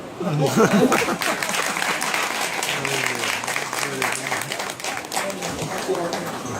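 Sustained applause from a school audience at DPS Faridabad after a ten-year-old's chemistry demonstration, a dense steady roar of many hands clapping near and loud throughout, with voices mixed in.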